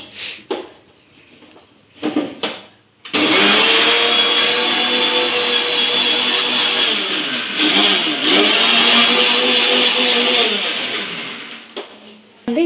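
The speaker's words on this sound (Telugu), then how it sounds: "చూడండి ఫస్ట్ షుగర్ అయితే మిక్సీ పట్టేసుకుంటాను." A mixer grinder powdering sugar with cardamom: a few short pulses, then a loud, close, continuous whirring run of about eight seconds before it stops with a couple of clicks.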